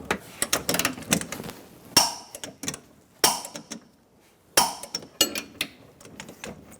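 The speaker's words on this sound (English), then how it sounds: "We're going to torque our camber adjustment bolts down to 140 foot-pounds." Torque wrench tightening camber adjustment bolts on a control arm of a 2014-2018 Chevrolet Silverado 1500 to 140 foot-pounds, heard as close, sharp metallic clicks and clanks in irregular bursts with a few louder hits and no talking.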